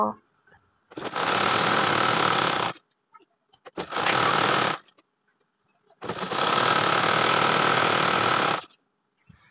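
An electric sewing machine stitches a flower design onto a young child's top in three loud, steady whirring bursts separated by short pauses.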